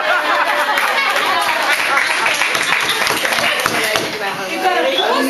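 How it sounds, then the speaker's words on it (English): Guests at a bat mitzvah burst into applause after a speech, a dense, close wash of clapping mixed with cheers and chatter that holds steady throughout. "Now, everyone give Amber a round of applause."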